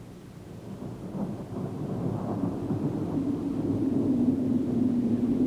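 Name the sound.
thunderstorm with wind and rain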